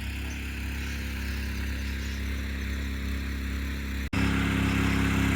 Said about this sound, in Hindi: सुबह सुबह आ चुका है हमारे खेत में ट्रैक्टर